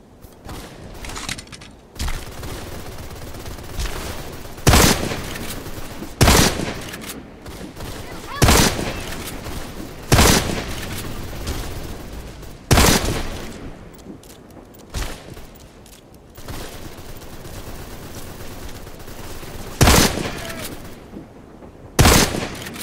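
Gunfire in the shooter game Deadfall Adventures: a run of loud, sharp shot bursts spaced every second or two across the clip, with a voice and game noise in the background between shots.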